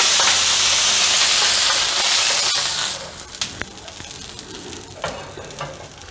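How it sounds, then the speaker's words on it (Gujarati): A loud, steady hissing sizzle as water is poured onto a hot pan to cool it, fading after a few seconds into quieter crackles and light clatter. "હવે એમાં આપણે થોડુંક પાણી નાખીને એને ઠંડી કરશું"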